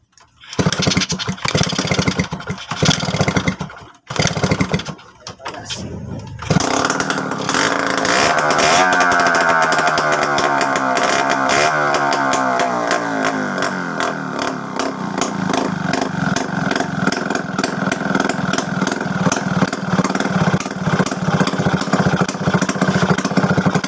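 A Kawasaki HD3 motorcycle engine cranks with a few uneven, sputtering kicks, catches and then runs at a loud, steady, close-up idle with a busy rapid beat.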